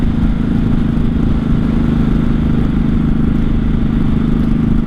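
A 1983 Honda Shadow VT750C rides in fifth gear with a loud, steady, low engine drone and rattling clatter, heard up close from the rider over rushing wind. The bike has a missing engine cover.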